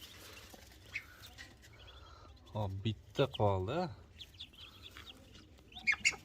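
Ducklings peep at a small home duck-raising farm. Short bursts of high, chirpy calls sit among quiet rustling, and a person speaks nearby.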